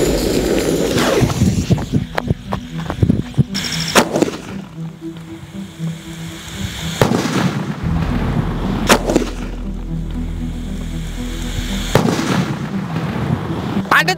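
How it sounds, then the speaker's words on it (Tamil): Double out firecrackers from Sivakasi bursting in a series of sharp, loud bangs spaced a few seconds apart, each followed by crackling and a fading rumble, with brief voices between blasts. "அடுத்து நம்ம வெடிக்க போகிற அவுட்டு டபுள் டபுள்"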